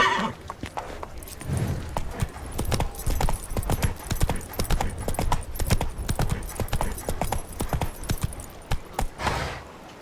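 Roach, a horse in the video game The Witcher 3: Wild Hunt, gallops hard and steadily with loud, close rhythmic hoofbeats throughout, and a short whinny or snort breaks in near the end.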